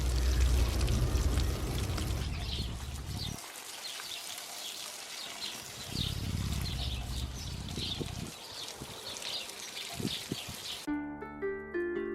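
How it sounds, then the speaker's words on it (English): Water pours and splashes onto a garden bed of soil during drought, a steady broad wash rising and falling in bursts at moderate closeness, with a few brief gaps and no talk. "now I think things are getting a bit desperate, so they really are going to get a very good soaking"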